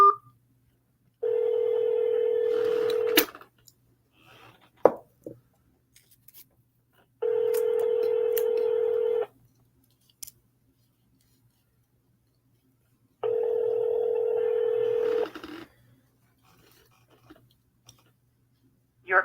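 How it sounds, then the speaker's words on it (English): A telephone system plays three long steady tone bursts separated by gaps, along with short clicks and keypad beeps, as an office phone line dials extension 100. The tones are loud and clear and no one talks. "Dial extension 100."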